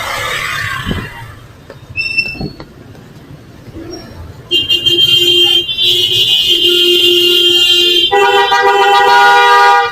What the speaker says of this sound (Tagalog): Busina sila ng busina.